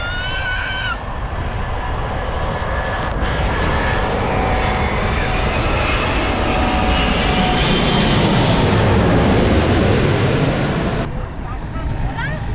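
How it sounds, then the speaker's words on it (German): A jet airplane on landing approach roars low overhead in Mauritius, its engine noise building to a loud, close peak before slowly fading, with a rushing whine throughout. "wie so ein Flugzeug einfach hier landen will"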